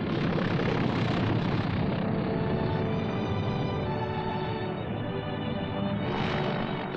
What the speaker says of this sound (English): The first plane landed just 24 hours after the Seabees had started to work.